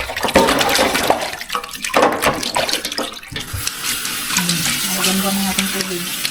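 Tap water runs steadily into a sink as food items are rinsed, a continuous hiss and patter with clattering handling, close and fairly loud with brief talk over it.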